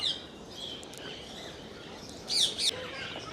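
A parrot kept caged at a zoo gives a few faint, thin calls over soft background noise, two of them close together near the end.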